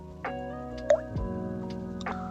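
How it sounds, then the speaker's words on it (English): Someone drinking water, with wet drips, plops and small liquid sounds spaced across the moment over a faint background tone, close and fairly quiet, no talk. "Sorry, I'm drinking water."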